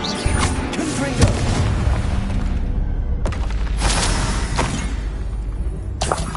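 Confringo spell blasts in Hogwarts Legacy, two loud booming explosions a few seconds apart, each a sudden broadband burst with a rumbling tail, and a third sharp burst starting near the end.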